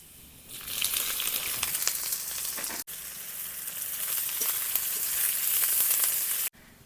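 Chopped onions hit a pan of reddened, fried garlic for chicken pasta, giving a loud, steady sizzle that runs alone with two abrupt breaks, no talking.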